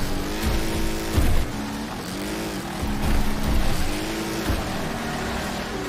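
Race car engine in the racing game Wreckfest, a loud, continuous droning roar with rising and falling pitch as the car shifts and accelerates, close and steady throughout without any talk.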